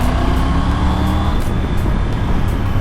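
A 2020 Triumph Tiger 900 GT motorcycle pulls in fourth gear on the road, its engine a loud, steady drone mixed with wind rush and road noise, with no speech.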